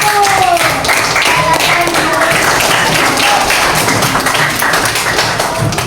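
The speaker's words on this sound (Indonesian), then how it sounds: "Tepuk tangan untuk kelompok 1." Schoolchildren in a fifth-grade classroom clap together for a group after its presentation, a loud, steady patter of many small hands that carries on for several seconds, with voices and a few high calls mixed into the noise.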